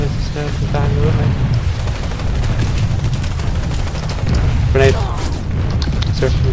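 Explosions and dense gunfire in a shooter video game, a steady loud barrage of booms and shots with a brief louder burst near the end, with a voice speaking over it.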